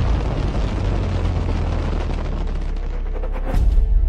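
Aerial bombing, with a dense, continuous roar of explosions and booms filling the whole stretch and a heavier burst near the end. The sound is loud and sustained, with no voices.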